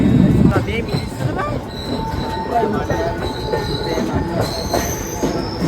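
A train rolls in with metallic wheel squeals and rumbling carriages, loud and near, while people talk nearby.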